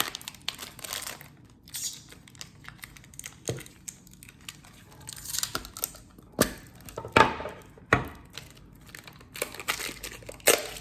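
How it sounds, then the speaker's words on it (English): Plastic wrapping is peeled and pulled off parts of a blueGel electrophoresis system during unboxing, with irregular crinkles and sharp crackling bursts, close up and without speech. "Take this plastic out as well."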